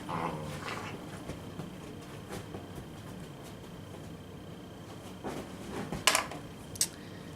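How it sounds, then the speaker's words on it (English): A new puppy barks in short, scattered yaps while playing indoors, mostly faint and in the background, with a couple of sharper, louder barks near the end. "that's my puppy in the background. I have a new puppy, so he's barking right now and playing."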